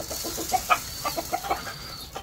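Chickens clucking in short, scattered calls while being fed grain near a cage, several birds close by over a faint background hiss, no talk.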